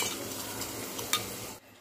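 Radish salad with salt and yogurt being stirred in a bowl, a steady wet mixing and scraping for over a second before it stops abruptly, with one brief clink of a spoon against the dish.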